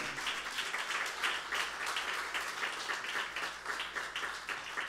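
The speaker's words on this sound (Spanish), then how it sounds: "Dale un aplauso al Señor." A church congregation applauds during a sermon, a steady wash of clapping held at an even level from start to finish with no talk over it.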